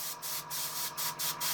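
Quick bursts from a small spray can or airbrush coat a miniature sword, giving about five short hissing puffs in an uneven rhythm, each separated by brief pauses, close and clear with no talking.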